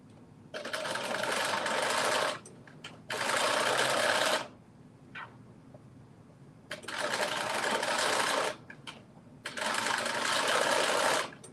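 A sewing machine stitches a garment seam in four long bursts of rapid, close mechanical whirring, separated by short quiet pauses with faint handling clicks.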